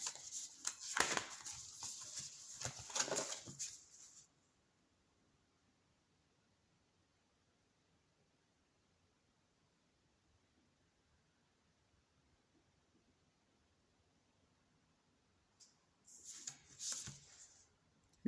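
Tarot cards being shuffled during a reading, a dense papery riffling burst for about four seconds, then near silence, then a shorter burst of shuffling near the end, close and fairly quiet.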